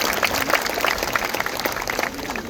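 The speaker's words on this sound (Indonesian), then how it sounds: "Boleh beri tepuk tangan dulu" Applause from an audience at an outdoor orchestra concert at Monas in Jakarta, a dense, steady wash of clapping that carries evenly through the whole stretch.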